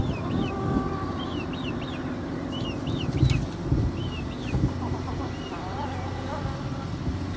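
A backyard flock of laying hens with young birds nearly adult size, soft clucks and chirpy calls scattered over a steady low outdoor hum, with a few louder bumps in the middle.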